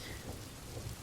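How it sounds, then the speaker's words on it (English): Steady rain falls with a low rumble of thunder underneath, a dense continuous wash of sound with no voices. "I love the rain."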